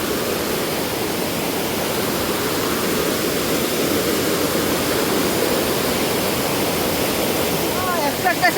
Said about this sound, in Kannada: ಫಾಲ್ಸ್ ಮಾತ್ರ ಮೇಲ್ಗಡೆಯಿಂದ ನೀರು ಕೆಳಗಡೆ ಇರೋ ಥರ ಇದೆ ಅಷ್ಟೇ